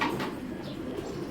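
Young racing pigeons from club racing stock coo softly in a loft, a low, steady murmuring drone that runs throughout with no talking.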